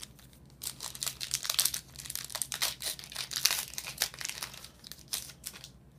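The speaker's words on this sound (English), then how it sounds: "let's open two packs" Pokémon card booster packs tear and crinkle open in close, bursty foil rustles, with sharp crackles clustered over several seconds and quiet gaps between.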